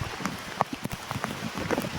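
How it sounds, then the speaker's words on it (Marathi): Heavy rain pours steadily across a hillside fort trail, a dense hiss of drops broken by scattered louder splatters and taps close by, with no voices. "पाऊस पडतोय खूप"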